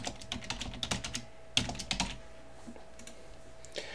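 Fingers type on a computer keyboard in a quiet room, with close, irregular clicky keystrokes in short bursts and brief pauses.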